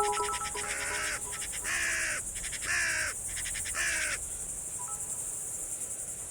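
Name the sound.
crow caw sound from a stream alert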